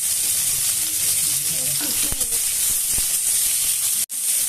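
Onion and tomato fry together in a pan for a fish curry, a loud, steady close-up sizzle with a couple of soft utensil knocks and a brief cutout near the end.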